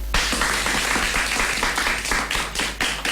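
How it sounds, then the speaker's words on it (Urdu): Studio audience applause on a children's radio program, a dense burst of many hands clapping steadily for about three seconds, fairly loud and close, with no talk over it. "آپ کے لیے ہم تالیاں بجواتے ہیں"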